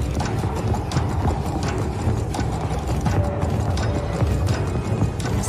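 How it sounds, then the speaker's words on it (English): Footsteps approach from behind in the horror game Finding Frankie, heard as loud, dense, rhythmic clattering thuds mixed with mechanical noise, steady throughout with no voice. "I hear the freaking footsteps behind me"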